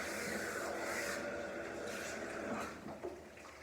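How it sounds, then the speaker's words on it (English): Water runs steadily while shampoo is rinsed out of a person's hair, a continuous close splashing wash that eases off near the end. "you're going to rinse it out again, and you're going to make sure that you get all of the shampoo out of the hair"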